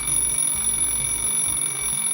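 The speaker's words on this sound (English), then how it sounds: "Alarm sound. It's morning already." An electronic alarm clock rings in a Touhou fan video game, a loud, steady pulsing beep that repeats without pause and plays alone, with no talk.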